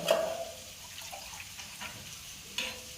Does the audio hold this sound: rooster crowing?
no